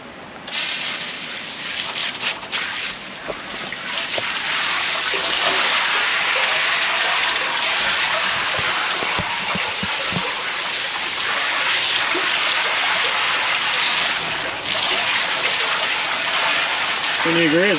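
Water hosed into a sewer lift station to rinse it, a steady loud gushing spray of water running nonstop, with voices talking faintly now and then.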